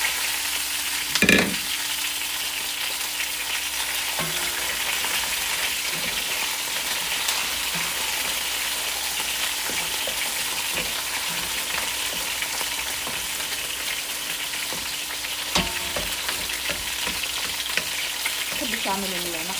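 Meat for Iraqi dolma fries in a pan with a dense, steady sizzle, close by, broken by a few clanks and stirring knocks.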